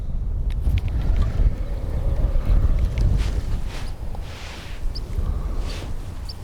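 Steady wind gusting across open water at a reservoir during a fishing session, a loud continuous low rumble buffeting the microphone throughout with no talk.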